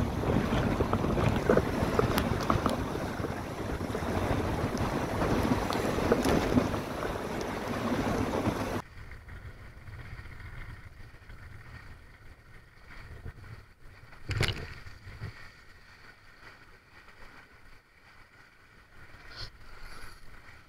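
Sailboat out in strong crosswind on Lagoa do Peri, Santa Catarina, waves slapping the side of the hull; loud wind buffeting and water rush fill the first half, then calmer sloshing with an occasional sharp knock, no talk.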